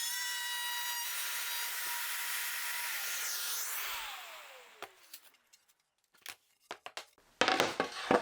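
A tool guided by a trammel point cuts a pill-shaped plywood panel with a steady high whine that winds down as the motor coasts to a stop, followed by scattered knocks and clattering handling noises.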